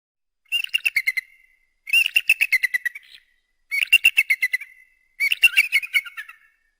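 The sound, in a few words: eagle call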